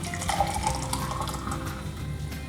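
Blended chocolate lassi, a sweet yogurt drink, pours into a glass in one steady, continuous liquid stream, close and clear, with no talk.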